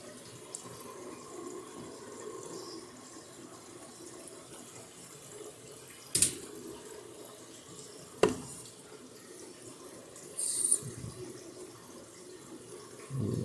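Frigidaire washing machine in its first rinse, water steadily rushing in as it fills, a continuous hiss with a few sharp clunks and bumps.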